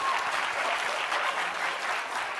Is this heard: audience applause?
yes